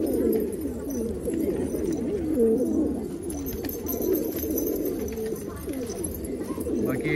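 Pigeons coo on a rooftop, several birds overlapping in soft rolling calls that continue steadily throughout, close and moderately loud.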